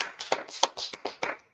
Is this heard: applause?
yes